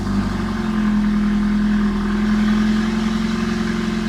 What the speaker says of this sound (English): Okay, so we just start that engine,